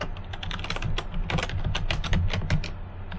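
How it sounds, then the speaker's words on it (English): Rapid clattering keystrokes on a computer keyboard, close and continuous, with irregular quick taps as a domain name is entered. "You can just type in your domain name"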